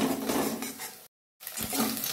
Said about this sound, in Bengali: ডিমটাকে আমি এরভাবে কুচো কুচো করে এটাকে ভেজে নেব